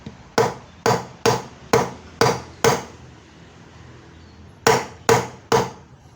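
Sharp metallic-wooden strikes from a shim tool on a Samsung washing machine spin-dryer shaft, six in a steady rhythm, a pause, then three more, each ringing briefly with no talking.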